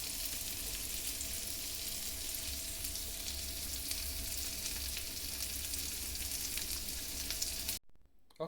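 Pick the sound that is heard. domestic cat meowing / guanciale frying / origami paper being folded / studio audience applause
guanciale frying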